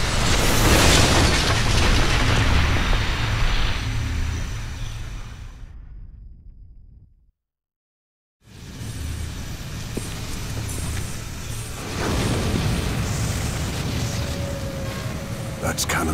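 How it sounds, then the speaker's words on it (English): Cannon fire in the Wii game The Last Story booms as deep, loud blasts with a roaring rumble. The noise drops to silence for about a second, then returns as more booming explosions. "That's cannon fire."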